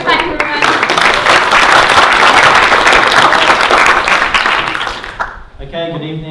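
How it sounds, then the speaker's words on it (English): An audience at the Seed Waikato Political Punch 2018 event applauds a speaker with dense, sustained clapping for about five seconds, then it fades as a voice begins speaking close by. "Give him a clap, everyone."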